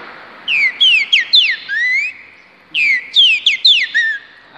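A man whistles an imitation of the trinca-ferro bird call, two close, clear phrases of rapid slurred and swooping notes separated by a brief pause.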